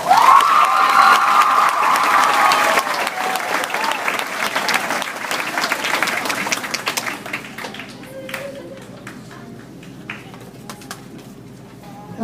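Audience applause for award-winning Pine Meadow Elementary students, loud and dense for the first seven seconds, then thinning to scattered claps with a faint voice and background chatter.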